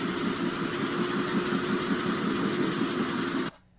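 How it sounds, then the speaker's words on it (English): Gas engine driving an oil-field rod pumping unit runs steadily at idle-like speed with a dense mid-range throb, loud and close, then cuts off abruptly near the end. "I just always love the sound of a gas engine."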